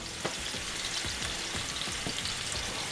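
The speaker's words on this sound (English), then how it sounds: "We're just quick searing them." Country style ribs sear in a very hot pan over high heat, giving a steady loud sizzle and crackle throughout, with a few brief clicks and shifts as the meat or tongs are moved.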